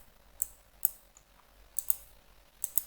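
Sharp, close computer mouse clicks sound as scattered single and double taps, quiet and alone with no talk.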